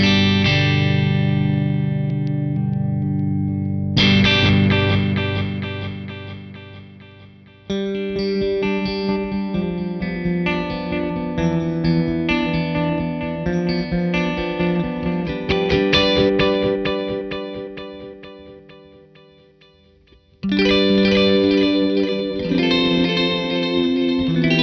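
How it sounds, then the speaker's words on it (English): Electric guitar through a Rorschach Devices Apophenia delay pedal, cycling its three-way filter switch through high-pass, normal and low-pass modes, strummed chords and phrases ringing with echoing repeats and a tone knob taming high end, loud and alone with no talk. "start by checking out that three-way filter switch because it really sets this delay apart from others"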